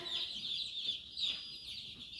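Many small meat-bird chicks on bedding under heat plates peep continuously in high, shrill chirps, a dense overlapping chorus close by and fairly quiet.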